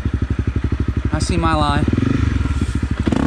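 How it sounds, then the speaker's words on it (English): A Honda CRF 250 Rally motorcycle engine thumps in a steady, rapid idle-like pulse close by, then revs up while climbing a hill, with a rider speaking briefly over it. "Damn, I think my throttle's still sticking a little."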